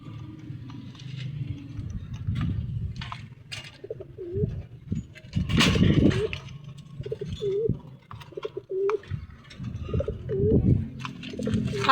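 Pigeons coo repeatedly in soft, rounded calls at feeding time, with a few faint chirps and light ticking mixed in. The calls stay close and moderately loud, with no talking.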